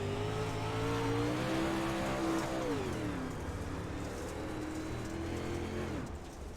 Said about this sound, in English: You heard him lift off the gas